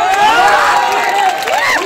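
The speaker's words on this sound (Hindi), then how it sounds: "चंद्रशेखर जी हैं, उनके लिए जोरदार ताली बजाइए" A crowd at an outdoor protest rally in Kishanganj, Bihar, cheers and shouts loudly and close by, with voices rising over a faint layer of clapping.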